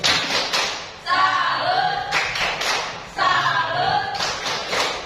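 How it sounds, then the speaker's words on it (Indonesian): A school classroom of students performs a rhythmic salute clap in unison, with repeated patterned bursts of claps and thumps alongside group chanting, cycling about every two seconds. "Kita tepuk salut untuk dua teman kita ya."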